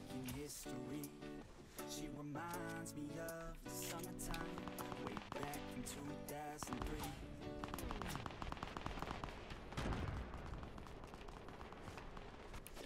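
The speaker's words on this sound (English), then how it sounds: "Somebody shooting at us." Gunfire in the Fortnite battle royale video game during a 50 v 50 match, sharp shots crackling in bursts over a dense wash of game music and effects, with a player talking throughout.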